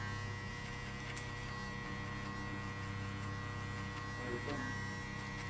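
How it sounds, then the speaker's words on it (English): An electric hair clipper buzzes steadily during a barber's mid taper fade haircut, a close, even hum with slight changes near the end. "you close the clipper and use only the corner of the clipper"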